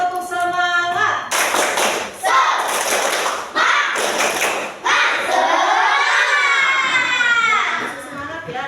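A classroom of children perform a rhythmic spirit clap, loud patterned bursts of clapping broken by short gaps, ending in excited shouting and cheering close by.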